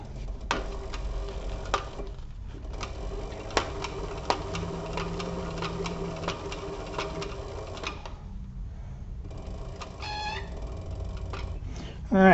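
A sewing machine runs steadily while stitching a crossbody bag, a continuous mechanical whir with rhythmic needle ticks that pauses briefly and then resumes, mixed with soft handling noises.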